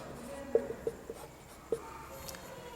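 A pen or chalk writes out a grammar rule on paper or a board, giving a few faint, sparse scratchy taps and strokes in a quiet room, with no talk.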